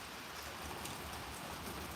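Rain falls steadily at an outdoor shooting range, a soft, even patter of drops hitting surfaces with no other sounds.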